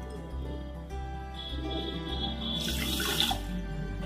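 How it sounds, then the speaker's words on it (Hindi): Half a cup of water splashes into a cooking pot already holding half a cup of sugar for making syrup in a home kitchen, a brief close pouring rush over a low background hum. "और 1/2 कप पानी डालेंगे"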